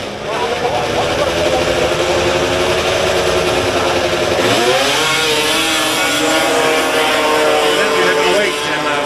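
A 600cc modified snowmobile engine at a 1997 grass drag event in Windham, Maine, catches and runs loudly with a raspy, chainsaw-like buzz. Partway through, its pitch dips and then climbs as it revs, and crowd noise sits in the background.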